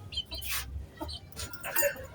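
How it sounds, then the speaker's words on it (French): A large Sasso rooster clucks nearby in a poultry farm, giving a few short, uneven bursts of throaty clucks with brief pauses between them. "ça c'est le coq, le gros coq qu'on appelle de Sasso"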